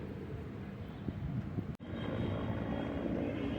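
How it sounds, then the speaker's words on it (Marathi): Steady engine drone of a helicopter passing overhead at Deekshabhoomi, Nagpur, a broad continuous rumble with a brief dropout midway, no talking. "दीक्षाभूमी भूमीवरून हेलिकॉप्टर जाताना"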